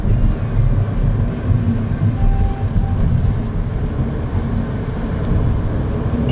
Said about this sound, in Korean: 엔진 소리가 바뀌어요.